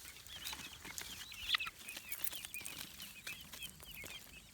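Backyard chickens cluck and chatter softly in a group, a faint scattered pecking murmur over steady outdoor background noise, with no speech.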